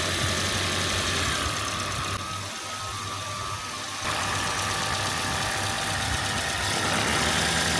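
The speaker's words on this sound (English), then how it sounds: "that fan is spinning now" A car engine idling steadily with its electric cooling fan running, a constant whir over the low engine hum, with a brief dip in level partway through before the steady drone returns.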